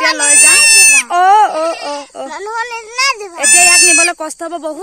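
A goat bleats loudly and repeatedly nearby, long wavering cries broken by short gaps and shorter calls.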